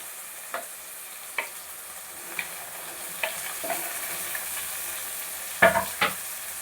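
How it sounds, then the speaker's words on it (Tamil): Bitter gourd sizzles and fries in a pan, with occasional scraping stirs and clacks of a spatula over a steady hiss. "நல்லா வதக்குங்க வதக்கிறதுலையே கொஞ்சம் கசப்பு தன்மை நம்ம சுத்தத்துலேயே போயிடுது"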